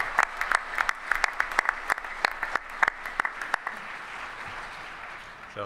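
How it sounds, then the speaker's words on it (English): Audience applause at an awards ceremony, a moderate room of scattered individual claps with distinct sharp hits over a soft wash, thinning out and fading toward the end, no talk over it. "we owe him a little extra round of applause for 2 years in a row"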